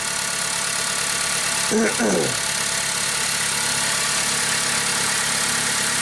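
A Ford Focus engine idling after a starter and air-conditioning repair, heard as a steady, even drone that holds up close for the whole stretch, with a brief voice speaking over it.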